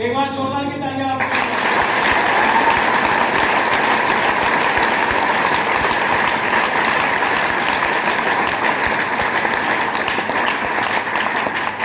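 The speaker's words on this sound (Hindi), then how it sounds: "एक बार जोरदार की तालियां आपको।" An audience at a business meeting class breaks into loud, sustained applause that fills the room evenly for about ten seconds, following a brief burst of voice at the start.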